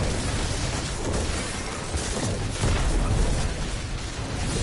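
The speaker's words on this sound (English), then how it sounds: "Ooh, God, nah, shooting fire, shooting fire," Flying demons in a video game shoot fire in a steady, loud barrage of rumbling, crackling blasts that swell and surge without a break, with no talking.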